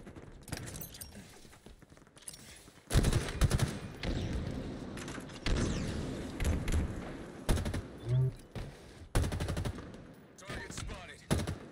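Gunfire in the Halo Infinite video game, with repeated bursts of automatic shots and single cracks across the clip, loud and close, while players talk over the action.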